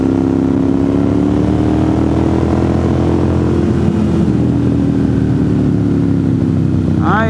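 A 2009 Ducati Monster 1100 motorcycle cruises along a mountain road in North Carolina, its engine a loud, steady drone that holds near one pitch, with wind rush over the top.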